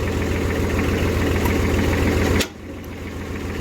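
Small tipper dumper engine idling with a steady, loud, close rumble for over two seconds, then the sound drops suddenly to a quieter, lower running hum.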